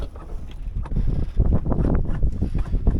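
A sailboat's winch sheets in the headsail and mainsail, giving irregular clicking and grinding mechanical bursts close by, mixed with wind buffeting and water noise, and no talking.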